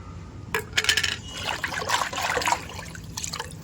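A tea leaf liquid mixture is poured into a homemade plant fertilizer, giving close splashing and trickling with clinking bursts that come and go throughout.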